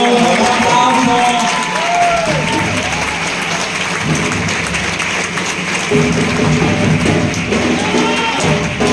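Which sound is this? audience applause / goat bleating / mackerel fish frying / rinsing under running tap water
audience applause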